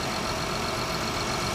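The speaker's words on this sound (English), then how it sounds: "Engine sounds good, so let's bubble up until it hit a normal temperature, then I will shut it off" A Honda Accord J30 V6 idles steadily at close range, a dense, even engine hum with no talk.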